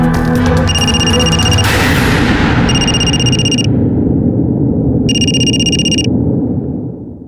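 A phone ring tone plays over speakerphone after a number is dialled, in three loud electronic bursts separated by pauses, with a sharp click and lingering room noise.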